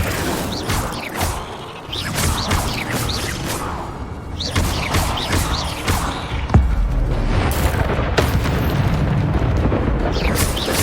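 Incendio fire spell in Hogwarts Legacy, a series of whooshing bursts and booming flame blasts amid mechanical rumbles and crashes, loud and repeated throughout.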